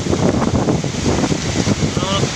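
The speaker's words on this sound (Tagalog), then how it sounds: "At sobrang lakas na ng hangin oh." Strong cyclone wind roars and buffets the microphone continuously, a dense gusty rush with no other clear sounds.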